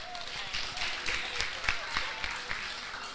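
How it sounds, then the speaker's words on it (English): Applause from an audience at a physiotherapy profession induction ceremony, a steady wash of clapping with sharper individual claps over a constant crowd murmur. "Please clap for her."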